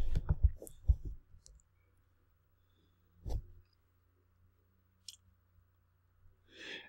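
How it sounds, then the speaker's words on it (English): Computer mouse clicks come up close and quiet: a quick run of several clicks at the start, then a few isolated clicks spaced apart in an otherwise silent room. "I'm going to click on OK."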